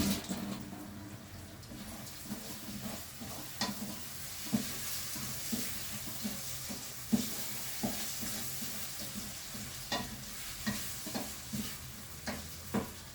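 Rice frying with melting butter in a pan at home, a steady sizzle with soft stirring scrapes and spoon taps recurring every second or so throughout, close and moderately loud.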